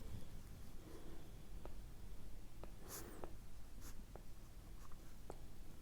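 Marker or chalk writes an equation on a classroom board, a series of short close scratching strokes and taps with pauses between, faint and quiet with no voices.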